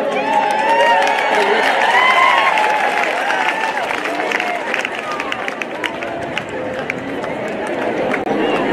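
A crowd at a county staff forum applauds and cheers the Meru County Drama Club, with continuous loud clapping, whoops and chatter across the whole stretch alongside talk.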